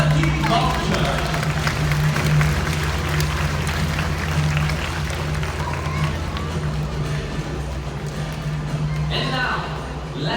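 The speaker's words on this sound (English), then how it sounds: "Ladies and gentlemen, big round of applause for turkey vulture" An audience at a Singapore bird show applauds a turkey vulture, a dense, steady wash of clapping and crowd noise that fills the whole stretch. A low hum runs underneath, and a voice comes in near the end.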